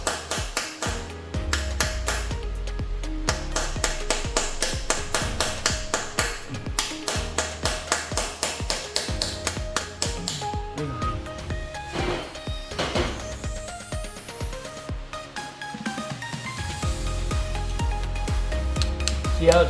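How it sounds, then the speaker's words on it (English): Sharp metallic hammer strikes on a punch ring out in rapid, uneven bursts, loud and close, knocking out a freeze plug on a 1996 Ford Ranger engine, continuing with brief pauses throughout. "You take a punch and a hammer, start on one side"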